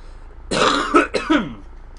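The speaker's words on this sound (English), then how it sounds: "I need to cough, so excuse me for that as well." Two short, harsh coughs from a person with a chest cold in quick succession, close up, with a brief gap between them and quiet before and after.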